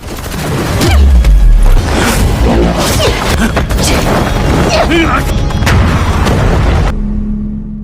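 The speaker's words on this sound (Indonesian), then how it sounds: "Namun kemudian mereka mampu menambahkan meriam yang membuat tubuh Ron hancur berkeping-keping" Loud booming blasts and crashing impacts from cannon fire in a dense action scene of the film The Red Sparrow, with whooshing debris, ending abruptly in near silence.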